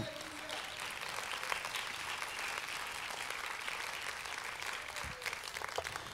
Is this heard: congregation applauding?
yes